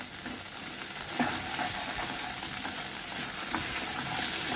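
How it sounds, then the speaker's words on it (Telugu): Potato curry with spices being stirred in a hot pan, a continuous close sizzle of frying with faint scraping of the spoon throughout and no voices. "ఇప్పుడు ఒకసారి కలుపుకుందాము."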